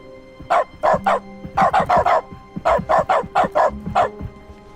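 A quick, irregular run of clipped dog barks stands in for keyboard keystrokes in the video game The Stanley Parable, a dozen or so sharp yaps in bursts, close and clear with no talking.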